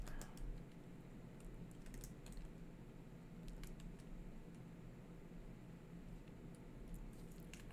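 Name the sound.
typing code on a computer keyboard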